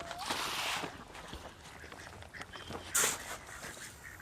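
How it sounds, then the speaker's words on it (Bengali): Ducks on a pond approaching for scattered grain, with quacking and honking calls mixed into outdoor background noise, one sharper call standing out near the end. "দেখতে পাচ্ছেন হাঁস চলে আসছে আমাদের আদার দেওয়া দেখে খাওয়ার জন্য"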